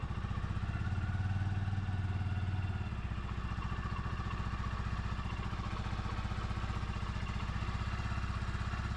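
A Honda Supremo motorcycle engine idles close by after starting with the choke on, a steady rapid putter with even firing pulses, slightly louder and rougher for the first few seconds before settling.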